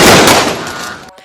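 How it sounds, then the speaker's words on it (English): A submachine gun firing .45 caliber rounds in a thunderous barrage during a bank robbery shootout, a loud dense burst of rapid shots that fades over about a second. "let loose with a thunderous barrage of gunfire, pumping .45 caliber bullets from a submachine gun into the bank"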